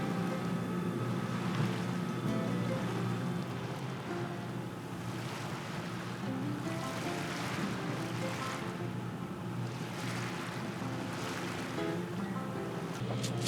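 Water rushes steadily past a sailboat's hull at sea, a continuous wash of surf with wind noise on the microphone, swelling in gentle waves throughout with no talking.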